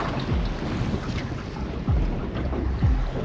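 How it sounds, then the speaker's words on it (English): Strong wind gusts over open ocean water beside a boat near Honeymoon Bay, a constant rushing roar buffeting the microphone with a few thumping surges. "And it's freaking windy and crazy."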